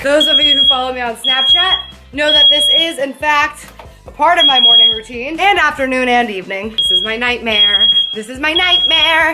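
A smoke alarm set off by frying bacon beeps in repeated sharp, high-pitched bursts, loud and close, sounding on and off under a person talking throughout.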